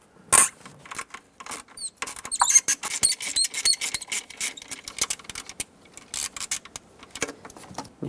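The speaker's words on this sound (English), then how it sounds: "Take a 7mm socket with an extension and remove the bolt that holds the" A 7mm socket on an extension ratcheting out the ignition coil hold-down bolt on the intake of a 5.4L V8 Ford E-350, rapid close ticking clicks with small metallic squeaks and taps.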